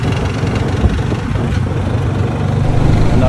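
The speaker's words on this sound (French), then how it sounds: "Il y a un claquement, comme un bruit de roulement pété ou un bruit de cannelure cassée." Motorcycle on a long road trip through Norway with a transmission fault, its engine running loud and close in a steady rumble, with an irregular knocking clatter mixed into the drone.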